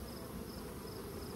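Honeybees from a queenless hive humming at an open hive, a faint continuous buzz with no breaks and no voices.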